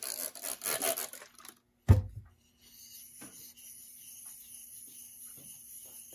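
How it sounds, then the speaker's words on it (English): A jointer blade is rubbed flat in circles on a sharpening stone, making a soft, gritty scraping in a few short strokes up close, then a single knock and a quiet tail. "lightly on the stone flat and in circular motion, and that's going to remove that back burr"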